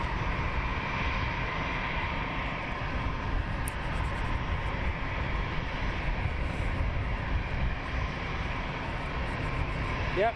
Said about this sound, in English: the Wizz Air going out, followed by 2 EasyJets taxiing out at the moment.